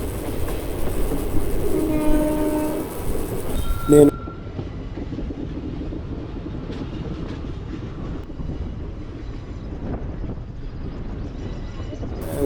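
A steady rumbling passenger train ride from Bhimavaram to Nagarsol with rhythmic rattling, a brief horn-like tone early on, then a lower, continuous rolling noise.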